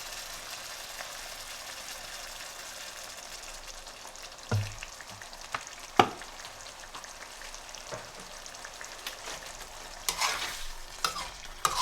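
Chicken karahi fries in oil after yogurt has reduced, a soft steady sizzle close by with scattered sharp spatters and a few louder clatters of stirring toward the end.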